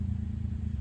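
A 1996 Suzuki Jimny K6A turbo manual idles steadily after being revved, with a low, even rumble and a slight clatter running throughout, close and alone with no one talking.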